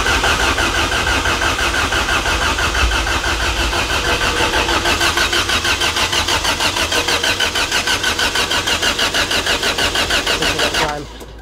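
A turbocharged Toyota 1ZZ engine in an MR2 Spyder cranks on the starter with the injectors off. It gives a loud, steady, rhythmic churning that runs without firing for about eleven seconds and then stops abruptly.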